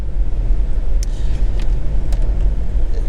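A Renault Megane 2.0 dCi GT three-door driving on a quiet country road, with a continuous low engine rumble and road noise from inside the car, steady and fairly loud with no talking.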